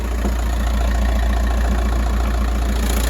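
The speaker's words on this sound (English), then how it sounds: "so you have got the diesel noise." A diesel van engine idles with a steady low rumble and rhythmic clatter, close and constant throughout.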